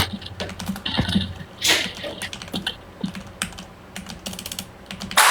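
A computer keyboard clatters in quick irregular bursts of keystrokes with short pauses between, close and fairly loud, with a few louder taps.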